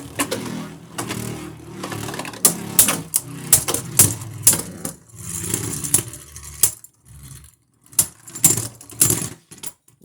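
Beyblade Burst spinning tops clash in a plastic stadium, making rapid, sharp metallic clicks and rattling scrapes in irregular bursts, with quiet gaps between flurries of collisions and no talking.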